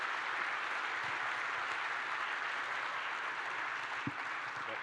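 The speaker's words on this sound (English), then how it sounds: "Let's give these guys a big round of applause." An audience applauds a panel after a general panel discussion, the steady clapping filling the whole stretch at a fairly even level, with no talk over it.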